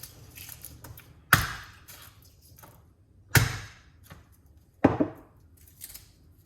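Knife chopping two cloves of garlic on a board, three sharp, distinct chops spaced about two seconds apart with a few lighter taps in between, close and clear.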